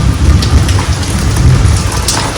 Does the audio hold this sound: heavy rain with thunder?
yes